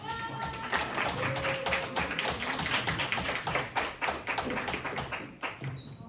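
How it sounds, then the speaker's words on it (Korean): A church congregation applauds a young woman as she comes up to give her testimony, a steady, dense wash of many hands clapping close and loud throughout. "우리 박윤지 청년 올라올 때 박수해 주시기 바랍니다"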